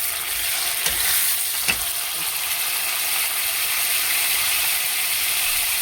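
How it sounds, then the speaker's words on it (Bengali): Onions and tomatoes fry in a pan with a constant, loud sizzling hiss, broken by a few faint clicks of a utensil, with no voices. "পেঁয়াজটা ভাজা হয়ে গেছে, টমেটো কেটে রেখেছি, দিয়ে দিচ্ছি"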